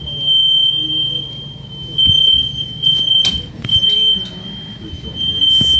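A smoke alarm sounds a steady high-pitched electronic tone, broken by short gaps, over background chatter and household noise while people talk nearby.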